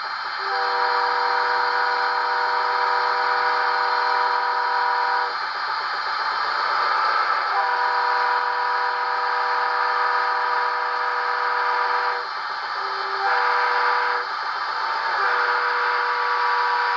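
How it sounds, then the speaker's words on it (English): A Doppler horn effect from an ESU LokSound decoder in an HO-scale Rapido Budd RDC model railcar: a sustained multi-tone chord horn blowing in long sustained blasts with short breaks, its pitch shifting as the pass is simulated, loud and alone. "F5 is Doppler horn slow."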